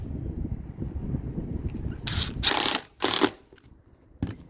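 A power screwdriver whirs in a few short bursts, driving screws through molding into the rubber roof of a 2021 Arctic Fox RV, with quiet handling noises between the bursts.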